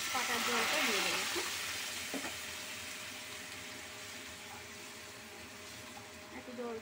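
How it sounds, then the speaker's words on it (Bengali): Mustard-leaf water pours into a pan of pomfret cooking in mustard-poppy seed sauce, a loud rushing hiss at first that eases into a quieter, steady simmering sizzle. "এরপর এতে আমি সর্ষে পাতার জলটা দিয়ে দেবো"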